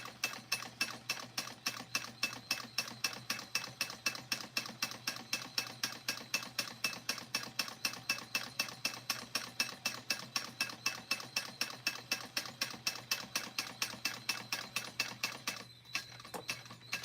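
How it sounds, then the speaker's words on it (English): Sewing machine top stitching a strawberry crossbody bag, a fast, even mechanical rattle of needle strokes running steadily at close range and stopping near the end. "All right, back stitch, and we're top stitching down the"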